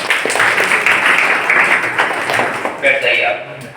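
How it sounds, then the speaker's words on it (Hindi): Applause from people in a room during an interview-coaching session, a dense steady patter of clapping lasting the whole stretch, with voices talking over it. "ठीक है, कोई बात नहीं, ताली बजा"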